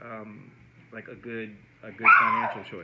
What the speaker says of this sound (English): Yeah, that's our dog.